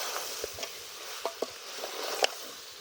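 Goat head curry stirred as it cooks in oil over a wood-fired stove: a steady close sizzle with a few scattered scrapes and taps of the spoon against the pot.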